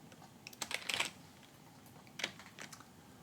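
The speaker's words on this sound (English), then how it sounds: "I'm just going to type increase." Short bursts of typing on a computer keyboard, a quick cluster of key clicks followed by a pause and a few more scattered taps, close and fairly quiet against a faint room hiss.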